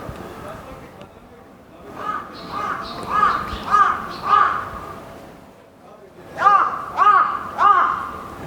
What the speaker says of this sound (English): I feel like that's that same bird